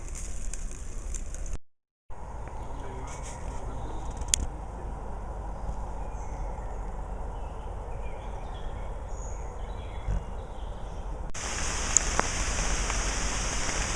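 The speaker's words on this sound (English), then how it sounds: "If we'd got up a bit earlier, we'd have beaten the rain." Steady rain falls outdoors on a European road trip, a dense even hiss with scattered drops pattering nearby throughout, briefly cutting out once, with no voices.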